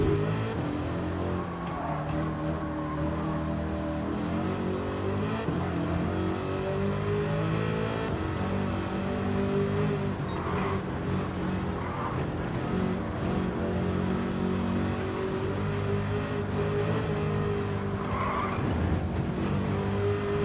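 A Corvette C8 ZR1 laps the Nurburgring, its engine droning steadily with rising and falling revs while the tires squeal and scrub through corners, heard close and continuous from on board.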